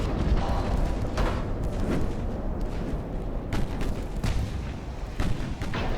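Battleship secondary guns firing in Ultimate Admiral: Dreadnoughts, a steady run of booming artillery shots with rumbling blasts at irregular intervals and no voices.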